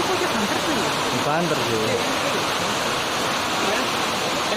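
The Putuk Truno waterfall pours in a constant, dense hiss of falling water nearby, while people talk briefly over the roar.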